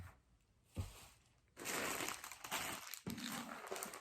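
Plastic bag crinkling while being handled during closet decluttering: soft rustling that builds into continuous close crackling and crumpling, with a brief thump near the start and a short pause before the crinkling resumes.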